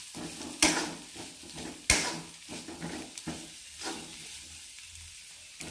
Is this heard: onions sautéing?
yes